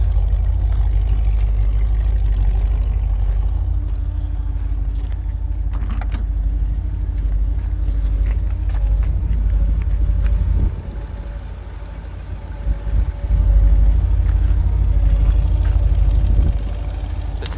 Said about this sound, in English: Flowmaster mufflers. Sounds really nice.